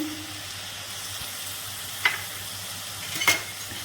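Taro leaves are stirred as they fry in a little oil, a soft, steady sizzle with two brief scraping knocks of the spoon against the pan.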